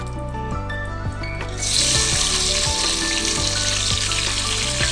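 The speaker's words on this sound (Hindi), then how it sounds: "अब हम इसमें टमाटर डाल देंगे और सब्ज मिर्चें" Tomatoes and green chillies hit a hot oiled pan for dhaba-style dal chawal, and a quiet background suddenly bursts into loud, dense, crackling sizzle that stays steady, with faint stirring knocks throughout.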